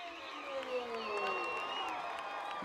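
A football stadium crowd at halftime of a high school game roars and cheers in a sustained wash of noise, with a loud sound system and voices mixed in.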